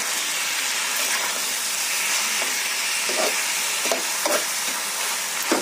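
Spices fry in a hot pan with a steady, close sizzle and hiss, broken by a few soft scraping stirs, with no talking.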